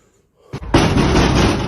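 Someone pounds hard on a door, beginning with a couple of sharp knocks and then a loud, sustained crashing barrage of banging close by, with no speech.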